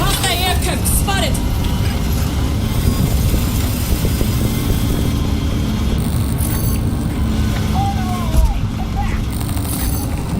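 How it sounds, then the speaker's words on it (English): Hostile aircraft in the Battlefield 6 video game roar overhead in a loud, constant engine drone layered with battlefield noise and chatter, holding steady across the whole stretch. "Hostile aircraft spotted."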